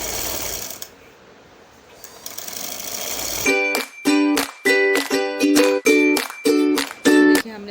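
A sewing machine stitches the neckline of a salwar in a series of short, loud bursts with brief pauses between them, after a quieter stretch of faint handling noise at the start.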